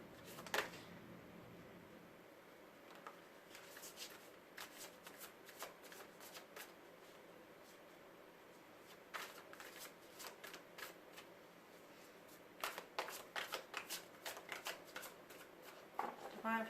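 Tarot cards are shuffled by hand in quiet, soft bursts of riffling and sliding, some flurries quick and crisp, with short pauses between them.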